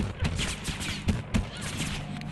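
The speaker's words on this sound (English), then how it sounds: "They are shooting at me!" Gunfire aimed at the player in Mirror's Edge Catalyst, a quick cluster of sharp shots in bursts over a steady game background.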